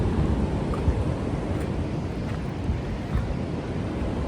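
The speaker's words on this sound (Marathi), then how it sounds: "पावसाचे दिवस असल्यामुळे पाणी देखील थोडंसं जास्त वेगाने वाहते अर्थातच समुद्र खवळलेला आहे" Rough monsoon sea waves rush and roar steadily against a sandy beach, mixed with gusting wind buffeting the microphone; no voices.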